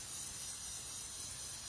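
Black spray paint hisses from an aerosol can onto a piece of lace, a steady, faint, airy spray with no pauses over a short stretch.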